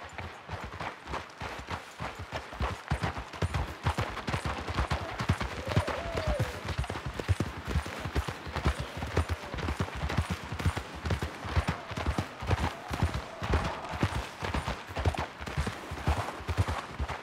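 Rapid hoofbeats of galloping horses in the video game Red Dead Redemption 2 pound continuously, dense and driving, with faint voices and a brief whinny-like tone in the mix.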